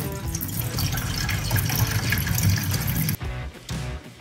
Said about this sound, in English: look at that literal rust that just poured out with it